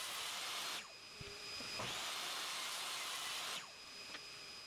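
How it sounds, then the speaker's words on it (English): A table saw trims the edge of a 2x6 board with a steady high whine and hiss, broken by two short dips where the cut starts and stops. "Then on the table saw I barely remove the other edge."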